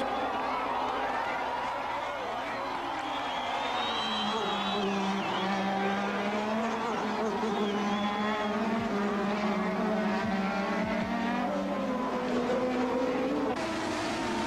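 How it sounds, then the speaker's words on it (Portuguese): 1988 Formula 1 race cars scream past at high-revving pitch, their engine notes rising and falling in overlapping sweeps that stay loud and continuous throughout. "Senna mergulha no fim da reta e passa Piquet, que cai para terceiro com Nakajima em quarto"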